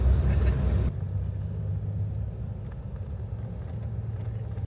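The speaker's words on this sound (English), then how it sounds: "Alright guys, we are in the bus now." Inside an overnight sleeper bus heading from Hanoi to Ha Giang, a steady low engine rumble and road drone fill the cabin, with a louder burst at the start settling into a continuous muffled hum.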